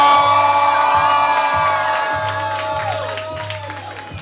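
A poetry slam audience claps and cheers loudly and continuously, with whoops and shouts over a steady rhythmic beat playing underneath, the crowd noise slowly easing off toward the end.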